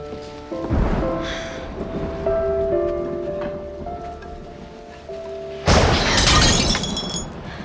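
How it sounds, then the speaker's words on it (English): Thunder rumbles during rain, a low burst early on and a louder, sharp crash near the end that sounds almost like something shattering, with music-like tones sustained underneath. "The thunder startled me."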